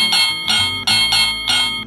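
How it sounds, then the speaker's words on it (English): A toy fire truck's bell rings loud and close, four quick metallic electronic dings in an even rhythm. "And you can press this button right here to ring the bell."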